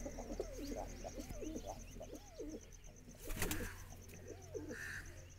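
Pigeons coo nearby in repeated soft, rolling calls over a low background hum, with a brief rustle partway through.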